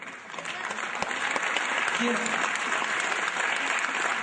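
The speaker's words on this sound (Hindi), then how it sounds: "आपकी तालियों में तो जोर हो" Sustained applause from an audience at a Hindi patriotic poetry recitation, a dense steady clapping that swells and holds for several seconds, with some voices in the crowd underneath.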